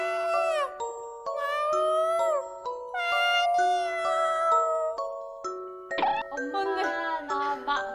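A person imitates a cat meowing for food, voicing a string of drawn-out, pleading meows with rising and falling pitch, close and clear, several calls in a row without other talk.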